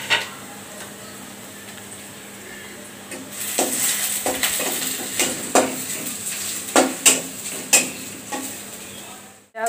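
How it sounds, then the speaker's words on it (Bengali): Chopped onion and garlic fry lightly in oil in a pan, a quiet sizzle that is soon overlaid by close, irregular metallic clanks of a spatula against the pan. "পেঁয়াজ রসুন হালকা করে ভাজা হয়ে গেছে।"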